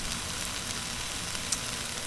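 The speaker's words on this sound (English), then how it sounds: "one final close-up with all the sizzling going on" Pork fried rice sizzles on a 22-inch Blackstone griddle, a dense, even, close crackling hiss with tiny pops, steady throughout with no voices.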